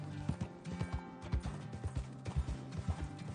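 Horse hooves clip-clopping in the Red Dead Redemption RP game world, a steady run of close, distinct hoof strikes with an occasional faint whinny.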